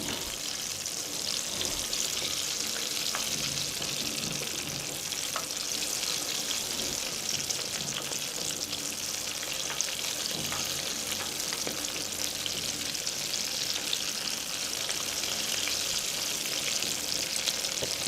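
Vegetable koftas shallow-frying in oil while being turned, producing a constant, moderately loud sizzle with faint scattered pops and occasional light stirring taps throughout.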